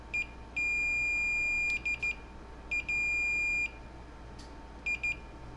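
Continuity-test beeps from a multimeter probing points on a laptop motherboard around a filter, heard as long steady tones broken by short stuttering chirps where the probe contact flickers, loud and clear with no speech.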